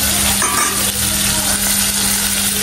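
Prawns frying in a pan, a loud, dense sizzle with spatula stirring scrapes running steadily throughout.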